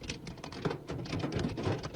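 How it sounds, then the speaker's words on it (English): Hail pelts down steadily outdoors, a dense, continuous patter of hard ice pellets striking surfaces, loud and close with no voices over it. "it's hail, not rain"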